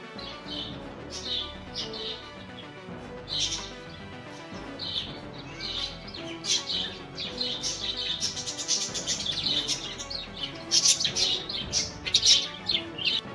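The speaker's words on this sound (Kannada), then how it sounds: "ಇಲ್ಲಿ ಬರ್ಡ್ಸ್ ಕೂಡ ಇಟ್ಟಿದ್ದಾರೆ ನೋಡಿ" Many birds chirping and tweeting together at a church, busy and continuous, growing livelier toward the end, with a faint background hum.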